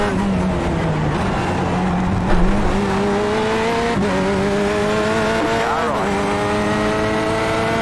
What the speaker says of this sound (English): I heard the engine more than anything